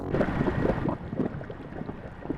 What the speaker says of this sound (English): So I'm playing water sounds out of the laptop.